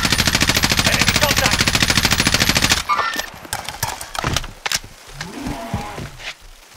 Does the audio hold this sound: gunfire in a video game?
yes